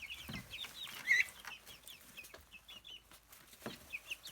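Backyard chickens clucking outside, a few soft intermittent clucks and short calls at moderate distance over quiet background.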